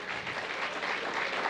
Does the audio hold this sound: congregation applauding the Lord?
yes